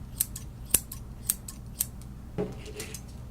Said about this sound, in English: taking my scissors right across the entire length